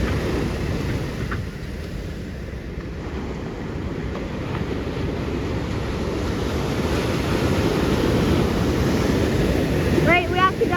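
Big ocean waves break and wash continuously at Aliso beach, a broad roaring surf with wind buffeting the microphone, steady and fairly loud, with a brief faint chirp near the end.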